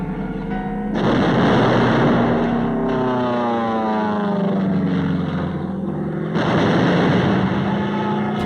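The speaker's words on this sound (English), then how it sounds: "From the air, supporting ships deliver point-blank fire." Naval gunfire from supporting warships shelling Iwo Jima at point-blank range in 1945, sharp loud blasts at about one, three and six and a half seconds over a continuous rumbling drone.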